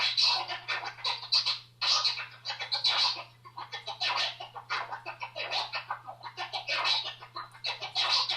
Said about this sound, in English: That's a 3-click that all the sounds are even,